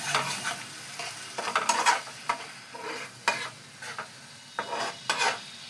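Spiced water poured into a hot curry pan for a vegetarian cabbage dish sets off a run of bursts of sizzling and stirring, with spoon clatters against the pan, close and fairly loud.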